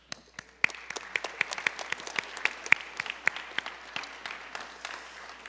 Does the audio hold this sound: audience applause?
yes